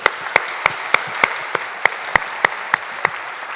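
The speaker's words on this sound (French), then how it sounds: "Applaudissons." Applause at a French talk on co-ownership and rental management: evenly spaced single claps, about a dozen in a steady rhythm, each crisp and close, rather than a dense crowd ovation.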